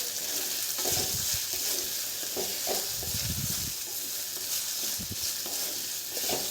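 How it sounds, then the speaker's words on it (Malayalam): Chopped ginger and green chillies fry in a hot pan for ginger curry, a continuous close sizzle broken by stirring scrapes and soft clinks of the spoon against the pan. "ഇഞ്ചിയും പച്ചമുളക് ഒക്കെ വാടിയിട്ടുണ്ട്, നല്ലോണം മൊരിഞ്ഞു വന്നിട്ടുണ്ട്"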